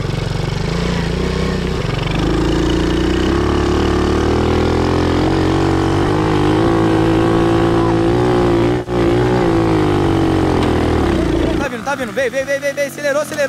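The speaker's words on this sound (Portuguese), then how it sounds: "Thiago, acelera tudo, Thiago." A mini quad bike's small engine revving hard as it climbs a steep hill, a loud sustained whining drone that rises in pitch and holds, then breaks into sputtering near the end, with people shouting over it.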